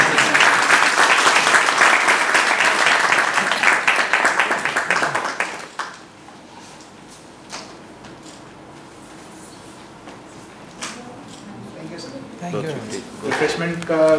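Audience applause at a university lecture on research grant proposal writing: dense, loud clapping fills the first six seconds, then stops abruptly, followed by quieter room sounds and someone speaking.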